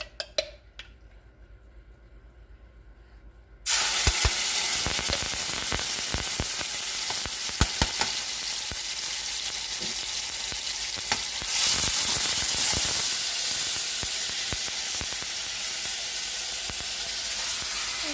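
Sofrito frying in a hot pan on the stove gives a steady, loud sizzle with scattered crackles, after a quieter opening stretch with no talk.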